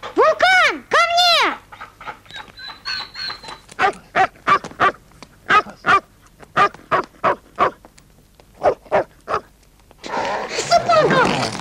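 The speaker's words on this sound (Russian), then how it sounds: "Убери собаку." A dog barks repeatedly in a steady run of sharp, close barks, mixed with people's voices calling out at the start and end.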